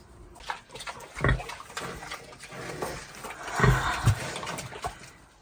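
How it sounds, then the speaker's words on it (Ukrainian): Pig squeals and grunts in bursts on a farm on slaughter day, rising loudly around the middle and again near the end, with handling noise and background movement. "білу свинку ми залишили на Новий рік"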